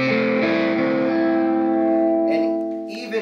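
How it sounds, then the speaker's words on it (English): Bearfoot FX Emerald Green Overdrive guitar pedal with bass turned down, treble up and drive high: a sustained, loud, harmonically rich overdriven guitar chord ringing out, with a few picked notes near the end. "you get a really kind of all across the frequency spectrum sort of overdrive distortion"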